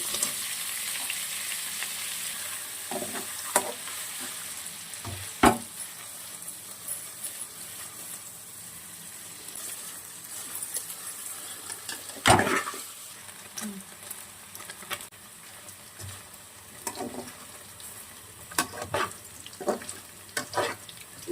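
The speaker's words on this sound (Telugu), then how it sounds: "ఈ గీ అనేది వేడైన తర్వాత ఈ పన్నీర్ ముక్కలు అందులోకి స్లోగా వదులుకొని పన్నీర్ ముక్కలతో పాటు జీడిపప్పు కూడా వేయించుకుంటానండి" Paneer cubes and cashews fry in hot ghee, giving a low continuous sizzle broken by occasional sharp knocks and scrapes of a spatula against the pan.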